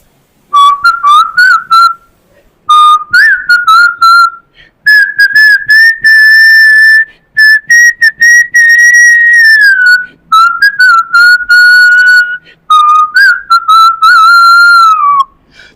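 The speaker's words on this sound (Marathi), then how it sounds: "मी शिट्टीतून गाणं म्हणून दाखवणार." A person whistling a song, a clear bright melodic line of sustained and gliding notes in phrases separated by brief breaths, loud and close with nothing else heard.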